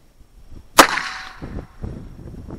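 A Heritage Rough Rider "Jonny Boy" X8 revolver fires a single loud, sharp 22 LR shot that rings out briefly, followed by quiet outdoor background with faint rustling.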